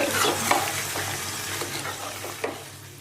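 Ingredients for a clay pot biriyani are mixed in a pan over heat, with a steady sizzle broken by several soft scraping strokes of a spoon, close and moderately quiet, no voices.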